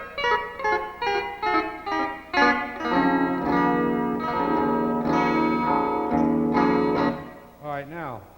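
Twangy electric guitar lick played through an echo effects unit, the repeating echoes trailing each picked phrase in a rapid, rhythmic run of bright notes with slight distortion, ending in a bending slide.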